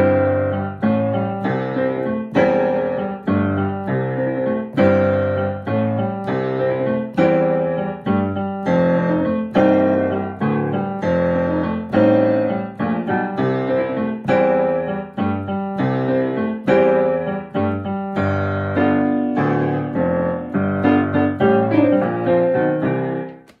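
A solo piano rolls through a New Orleans rhumba groove, steady syncopated left-hand patterns under bright chordal right-hand figures, close and clear for over twenty seconds without talk.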